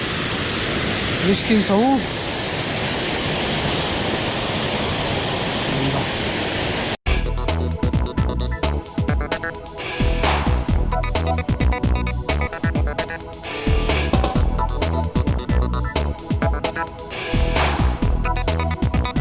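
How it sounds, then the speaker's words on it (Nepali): Baspani waterfall in a natural setting in Nepal, a steady broadband roar of falling water filling the scene, near and loud, with a brief voice heard early on. "waterfall"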